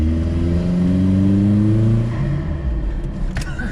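A turbocharged Suzuki Vitara engine pulls hard under throttle from inside the cabin, its note rising steadily for about two seconds before backing off, with a brief click near the end.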